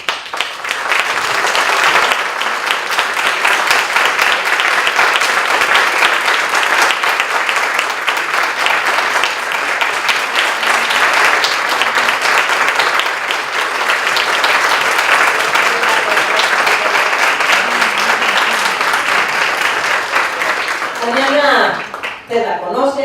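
Sustained audience applause at a Mexico City public forum, honoring the late Adriana Luna Parra: dense, loud clapping from a large crowd that holds steady for about twenty seconds before tapering off.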